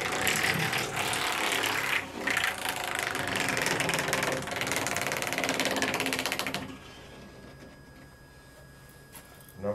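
A prize drawing wheel spins with a rapid, dense ratcheting clatter of clicks for about six and a half seconds, then abruptly stops, leaving a quiet hum.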